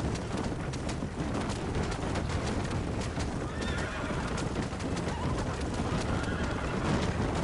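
A four-horse stagecoach gallops along a rocky road in the video game Red Dead Redemption 2, with steady hoofbeats, rattling and rumble under a sustained loud wash of noise and a faint neigh partway through.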